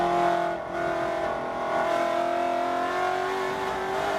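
A Mustang Cobra vintage race car is driven hard around Circuit of the Americas, its engine roaring steadily at high revs with rising and falling pitch as the driver works through the gears.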